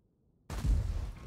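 A tank cannon fires in an armored combat video game, one sudden loud booming blast after near silence, with a broad rumbling decay trailing off.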